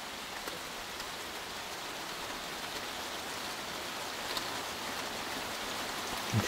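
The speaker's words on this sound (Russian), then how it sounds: "Сейчас идет дождь." Steady rain falling outdoors, a soft continuous hiss of drops with a few slightly louder patters near the end, fairly faint and even throughout with no speech.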